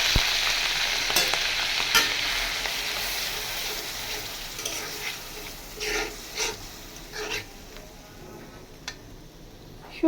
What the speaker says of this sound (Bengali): সুন্দরভাবে পেঁয়াজ আর রসুনটাকে ভেজে নিব।